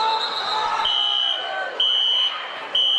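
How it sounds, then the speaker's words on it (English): A fire alarm sounds inside a high school gym during a boys basketball game, its piercing steady tone cutting in and out in repeated bursts over the background crowd noise of the arena. "We got an alarm set off here."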